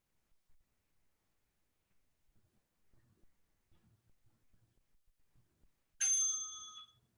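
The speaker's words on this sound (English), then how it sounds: "Double bell means exhale." A bell chimes near the end after several seconds of near silence with faint low rumbles, ringing out clearly and fading over about a second as a breathing cue.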